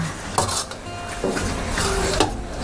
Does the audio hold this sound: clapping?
no